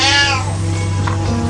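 A hoarded indoor cat gives a loud, drawn-out meow that slides downward and then fades, with a fainter second cry near the end, close to the listener in a cluttered home.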